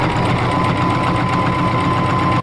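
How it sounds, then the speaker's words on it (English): A sewing machine running steadily at speed, stitching lace onto fabric for a ruffled scrunchie with yellow thread; a loud, close, continuous mechanical whir that cuts off abruptly at the end. "Now I'm gonna sew this lace over top of this one."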